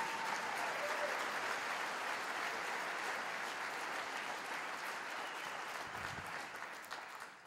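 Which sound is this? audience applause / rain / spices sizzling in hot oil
audience applause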